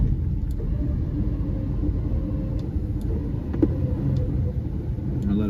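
A stuck truck's engine rumbles steadily and loudly in reverse while held under winch tension during an off-road recovery, a low continuous drone with a few faint knocks.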